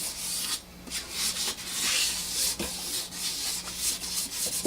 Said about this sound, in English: This is a real fine 3000 grit sandpaper. Just want to kind of buff up these tops